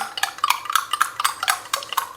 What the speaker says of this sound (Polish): Dobrze rozmieszać to w szklance.